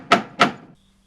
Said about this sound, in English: but it knocked again.